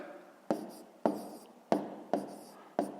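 Pen writing numbers by hand on paper during a school maths multiplication exercise, five quiet, close tapping strokes at a fairly even pace, each a sharp tick trailing into a brief scratch.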